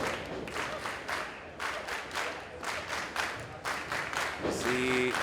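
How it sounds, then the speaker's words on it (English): A wrestling crowd at a STRONG professional wrestling event claps in rhythmic bursts to rally a downed wrestler, loud and sustained, with brief cheers toward the end. "the crowd trying to rally Damo back to his feet"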